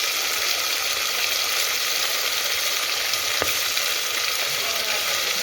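Potatoes, peas and onions fry in a pan with cumin and turmeric, giving a steady, close, dense sizzle throughout with a faint utensil tap partway.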